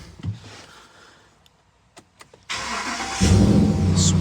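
A Dodge Ram 1500 pickup truck engine starting: a few faint clicks and taps, then a sudden cranking catch that fires into a loud, steady idle rumble close by, with no one speaking.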